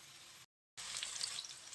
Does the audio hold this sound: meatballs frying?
yes